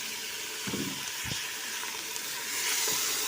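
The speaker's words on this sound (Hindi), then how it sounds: "जब हमारे प्याज ब्राउन हो जाएंगे तो हम इसमें डालेंगे अपना कीमा।" Minced meat frying in a pan with browned onions, a steady sizzle with a few brief stirring scrapes, close and even throughout with no talking.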